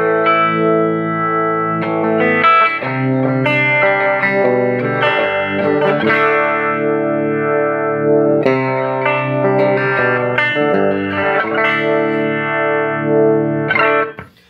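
An electric guitar runs through a Strymon pedal into a Magnatone 210 cabinet, playing loud, lush chords and notes with chorus-like shimmer and reverb before stopping abruptly at the end.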